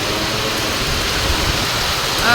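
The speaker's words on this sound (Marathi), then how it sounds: "इकडे बघा आपल्याकडे आज पाऊस आलाय" Heavy rain driven by strong wind on a farm, a dense, steady roar of falling water and gusts with no pauses.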